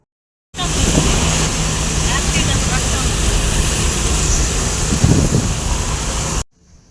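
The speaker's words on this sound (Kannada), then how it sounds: "ನೀರು ಉಕ್ಕಿ ಹರಿತಾ ಉಂಟು" Overflowing water rushes past in a loud, continuous broadband roar, wind-like and unbroken for several seconds before it cuts off abruptly.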